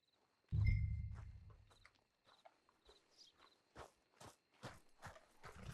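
A horse in the Red Dead Redemption 2 video game starts with a loud snort or thump, then clip-clops along in light, uneven hoofbeats, fairly close, with no one speaking.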